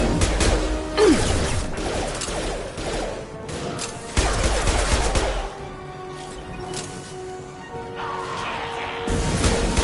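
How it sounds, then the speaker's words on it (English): Gunfire and impacts in a Mass Effect 2 firefight: repeated sharp cracks, crashes and bursts over a steady game background, rising and falling in intensity, with a couple of louder bursts. "Taking heavy fire!"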